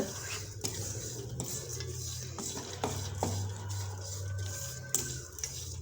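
Roasted spice masala being stirred in a pan, with steady scraping and clinking of a utensil against metal and a faint sizzle running through, close and continuous with no voices.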